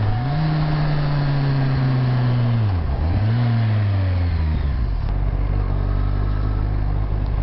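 Kawasaki Z1000R motorcycle cruising in sixth gear through a residential 30 zone, a steady close engine drone that dips briefly and recovers, then settles into a lower, smooth hum.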